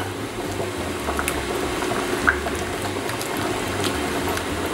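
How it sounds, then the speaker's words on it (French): Potatoes boiling in a pot of water give a steady, close bubbling and burbling with small pops throughout, heard alone without talk. "On n'a plus qu'à attendre que les pommes de terre aient fini de cuire."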